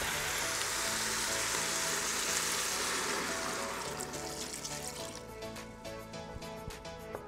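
Broth poured into an Instant Pot for butternut squash and apple soup, a steady hissing splash that thins into dripping, trickling spatters toward the end, close up over faint background music.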